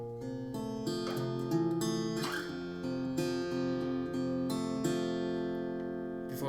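Guitar plays the closing phrase of the second verse of a song, leading toward the chorus, with rhythmic strummed chords and sustained ringing notes, close and clear, no voices.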